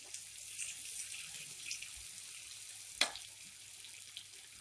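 Potato pieces fry in a pan for egg upma, giving a steady, faint hiss and sizzle with a few soft pops and one louder clink near the end.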